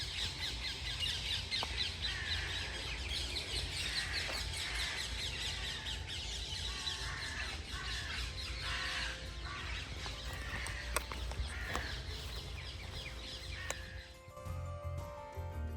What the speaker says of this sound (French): Là, vous pouvez entendre des corneilles et des perruches.